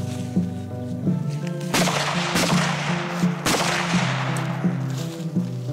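Rifle shots crack during Danish military sniper training, four or five loud sharp reports spaced a second or so apart over a constant droning background hum.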